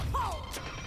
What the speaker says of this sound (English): Ah, rocket launcher.